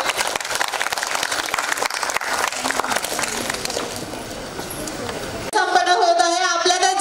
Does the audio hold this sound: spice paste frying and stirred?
no